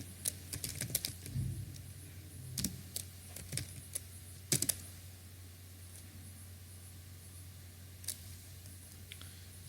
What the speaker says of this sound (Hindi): तो अभी जाके हम थोड़ा सा और टाइप करेंगे।